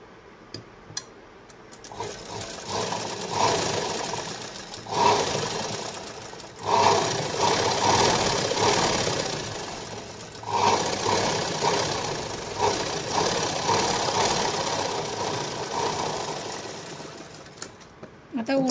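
An electric sewing machine stitches a sleeve onto a katori blouse in bursts of rapid, whirring runs separated by short pauses, loud and close.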